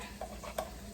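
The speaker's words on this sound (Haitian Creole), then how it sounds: "Hot dog la bien frit là." Hot dogs fry in oil in a home kitchen pan, giving a faint, soft sizzle with a couple of light stirring taps, heard quietly with no talk.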